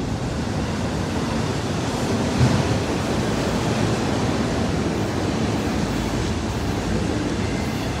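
A train rolls into Dorval station platform with a continuous, loud rumbling roar of wheels and cars, steady throughout with a brief louder knock partway through.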